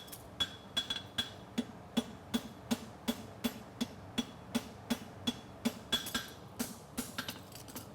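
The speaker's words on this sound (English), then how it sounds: "hit with the heel of your hammer" A hammer rings against a horseshoe in a steady, even rhythm, roughly a dozen sharp clanging blows with a bright metallic ring, close and fairly loud.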